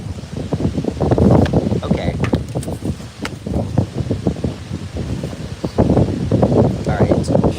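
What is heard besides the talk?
wind blowing outdoors at a pond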